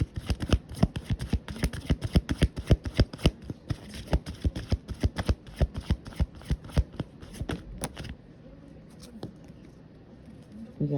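Tarot cards are shuffled in a rapid, steady riffling patter of crisp flicks for about eight seconds, close and fairly loud, then it stops and the background goes quiet.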